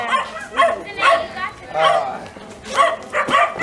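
A dog barks and yips in several short bursts over about three and a half seconds, close by, with people talking over and between the barks.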